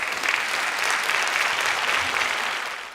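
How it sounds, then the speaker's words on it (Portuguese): Standing audience giving warm, sustained applause to departing guests at a Sesc talk event, dense clapping filling the room steadily for the whole stretch before easing slightly at the end. "De pé, a plateia se despede dos convidados com uma calorosa salva de palmas."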